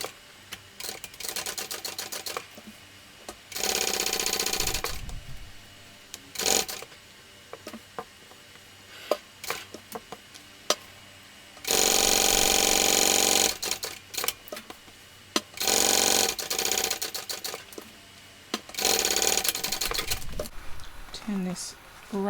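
A sewing machine stitches a slip pocket with a 1/4 inch seam in several bursts, short runs and longer steady whirring passes broken by pauses and small clicks, with a voice talking in the gaps.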